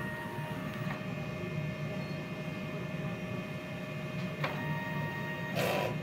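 A DTF printer runs a print-head cleaning cycle, giving a quiet, steady mechanical hum with a few faint clicks and a brief rushing sound near the end.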